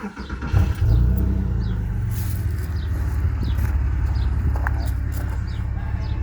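A Porsche 996 Carrera 4 engine cranks briefly, then catches and settles into a deep, loud idle rumble that continues steadily, with faint chirping birds in the background.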